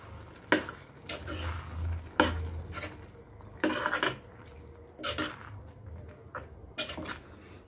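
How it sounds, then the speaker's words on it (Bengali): Spoon stirring sugar into a dish in a pan, heard as scraping and clinking strokes in uneven bursts with a low background hum, close and moderately loud. "ভালো করে মিশিয়ে দিচ্ছি।"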